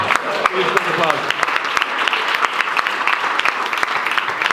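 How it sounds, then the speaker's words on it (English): An audience applauds at a startup pitch event, dense steady clapping with distinct sharp individual claps near and far, while voices talk over it. "Please take applause"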